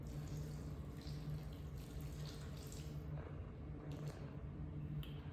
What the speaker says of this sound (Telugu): హాట్ వాటర్ అనేది ఇలా పోసుకోవాలి